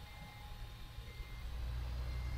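Reversing beeps from a small Dux truck in a modded driving video game repeat as a thin electronic tone over a low engine rumble, fairly quiet and steady throughout.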